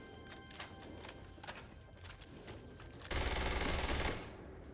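In the Starfield video game, rapid gunshots ring out in fast bursts, then give way to a louder, dense stretch of firing or blast noise that holds for about a second before it dies back.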